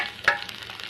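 Tomatoes tipped into a hot pan with fried onions for a manathakkali keerai kulambu, giving a short stir-and-sizzle burst followed by a steady soft frying hiss, close and alone.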